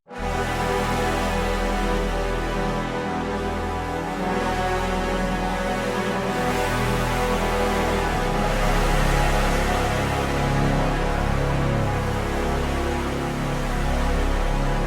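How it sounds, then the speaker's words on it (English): A 66-player trombone ensemble holds thick, steady sustained chords, layered with a trombone melody line and a low bass part. The blend is dense, full and continuous throughout, with no speech. "our 66 trombone ensemble here, just playing the sustains"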